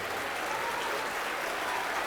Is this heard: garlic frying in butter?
no